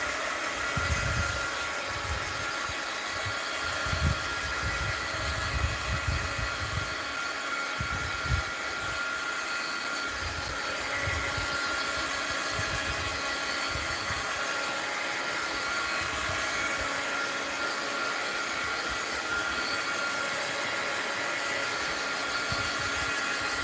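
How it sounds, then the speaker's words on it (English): A heat gun blows hot air over wet lace pieces and a transfer laid on wax paper. The whirring, rushing drone stays steady and close for over twenty seconds, with faint low rumbles underneath and no speech. "let's hit my heat gun with it"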